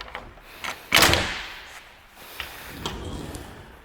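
The cabin door of a Catalina Trailblazer 29 THS boat swings shut with one solid thump, followed by softer knocks and handling noises, with no voices.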